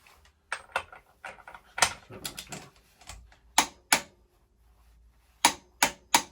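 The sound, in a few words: ratchet bar tightening an axle nut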